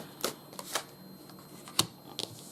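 Playing cards shuffled in several quick riffling bursts, close and crisp, separated by short pauses.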